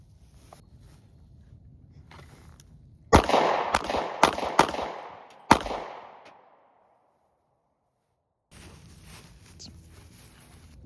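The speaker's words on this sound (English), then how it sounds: "now it's time to go and shoot some stuff" A 9mm pistol fires at a PVC-pipe and cardboard target stand outdoors: a quick string of about five sharp, loud shots with ringing decay, set against quiet ambient background.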